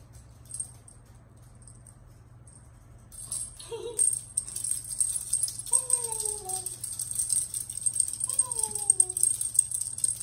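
Young British Shorthair kittens meowing twice in short, falling calls at close range, over a steady low hum and light rustling play sounds.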